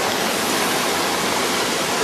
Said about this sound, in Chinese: 现在我们到了第三个瀑布了。